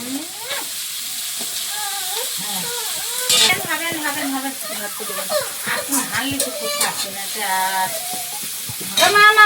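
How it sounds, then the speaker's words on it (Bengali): Chopped garlic sizzles in a pan while fish curry with aubergine is cooked: a soft, continuous frying hiss runs beneath someone talking at length nearby. "রসুন কুচি দিয়ে দিলাম"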